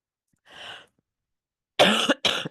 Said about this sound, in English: I'm sorry, I've got this bad cough